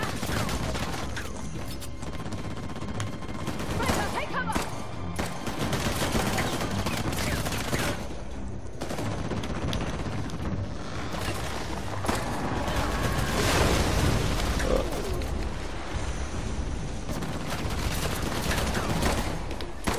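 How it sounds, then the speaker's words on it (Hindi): Dense, continuous gunfire in the video game Uncharted: The Lost Legacy, rapid automatic bursts and mechanical clatter filling the scene, loud and sustained throughout. "और अब बहुत गोलियां चला रहे हैं यार ये तो"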